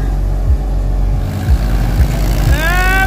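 A Swaraj 742 XT tractor engine labors hard in a tractor tug-of-war, a loud steady rumble with heavy rhythmic thumps about once a second and a rising whine near the end.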